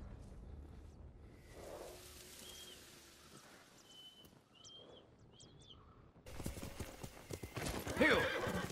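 Horses clip-clop and whinny in a dramatic outdoor scene, hoofbeats soft at first, with neighs and bird calls, then a louder burst of galloping hooves near the end.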